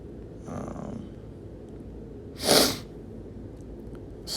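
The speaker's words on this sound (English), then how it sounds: "Slacking on the sniffling." A person who is getting over an illness gives one short, sharp sniff through the nose partway through. A fainter breathy sound comes a moment earlier, and quiet room tone fills the rest.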